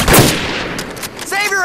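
Gunfire from a World War II battle in Medal of Honor: Pacific Assault at Henderson Field: a loud, close burst of shots at the start fading into echoing battle noise, with a brief shouted voice near the end.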